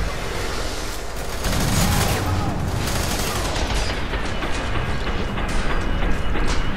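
Continuous heavy gunfire in the shooter F.E.A.R. 3 during co-op play, a dense roar of rapid shots and clatter filling the whole stretch, loud and close.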